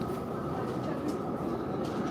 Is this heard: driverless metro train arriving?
yes